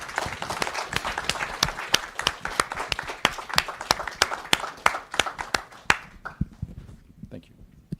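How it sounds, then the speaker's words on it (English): An audience claps after a panel discussion at a film premiere event on Capitol Hill, with steady, moderately dense applause thinning toward the end and voices talking underneath. "Let's give them a big round of applause."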